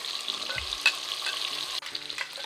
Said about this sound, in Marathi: फक्त आता याला छान फ्राय करून घ्यायचं आहे